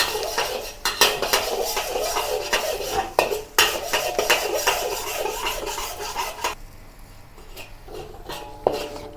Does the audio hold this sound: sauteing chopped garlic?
yes